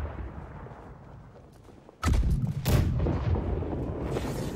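A ship's cannon fires in the pirate naval game Blackwake, a sudden loud boom after a quieter stretch of background rumble, followed by a second blast and a sustained crackling roar.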